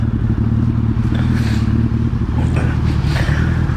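A Suzuki Hayabusa motorcycle being ridden, its engine giving a steady, close, low droning hum with a few faint clatters and rises in pitch, and no talking.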